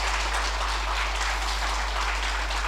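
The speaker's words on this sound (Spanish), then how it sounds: "Dale un aplauso a Jesús." A church congregation applauds during a service, a dense, even wash of clapping held steadily over a constant low hum.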